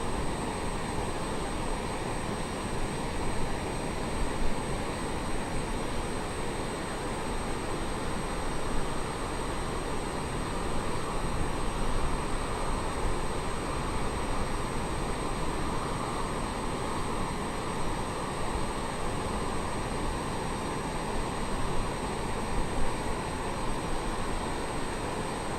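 A MiG-29 jet flying, a steady, broad roar that holds at an even level throughout without letting up.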